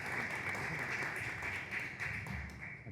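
Audience applause at an architects' association talk in Monterrey, a dense, even wash of clapping held at steady volume over a low room rumble for the full few seconds.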